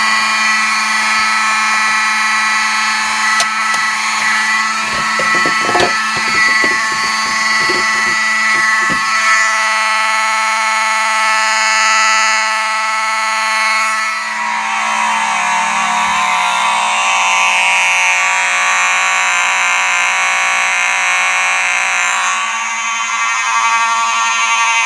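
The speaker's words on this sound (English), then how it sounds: "before I go ahead and set the alarm off, I have plugged the panel back in, so all these horns will be on FWR" Mechanical fire alarm horns blare loudly and continuously after a Simplex 4151-20 pull station is pulled during a system test, a harsh droning buzz filling the whole stretch with a few clanks early on.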